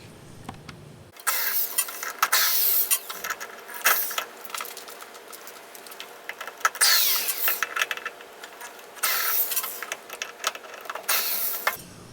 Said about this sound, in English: I'm going to need this, here we go, this T25 star bit to remove those screws